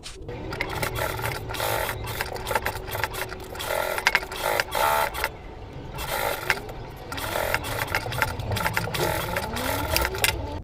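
A sewing machine stitches around the edge of a fabric pouch, its needle motor chattering in bursts of rapid rhythmic clatter that stop and start with short pauses as the fabric is turned.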